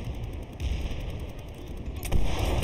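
Gunfire in the video game Planetside 2 crackles against an enemy, with a couple of sharp shots over a rumbling battlefield background.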